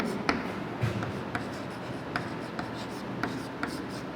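Chalk writing on a classroom board, faint steady scratching with periodic light taps as strokes begin, heard alone over a soft room hiss.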